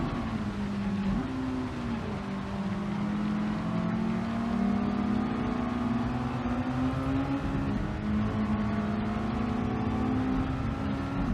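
Racing car engine in the Gran Turismo 7 video game at Tsukuba, a steady loud drone that shifts pitch as the car brakes into the hairpin, with other cars running close by.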